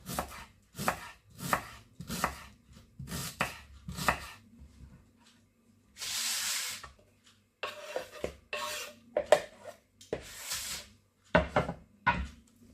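A knife chops vegetables, including bell pepper, on a wooden cutting board in a home kitchen, with bursts of crisp, rapid thuds separated by short pauses and a brief scraping sweep, close and clear with no speech.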